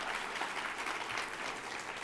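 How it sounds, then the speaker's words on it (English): An audience at a White House initiative event for Asian American, Native Hawaiian and Pacific Islander men gives the youth a round of applause: continuous, even, close clapping from a large crowd filling the whole moment. "Let's give our youth a round of applause here."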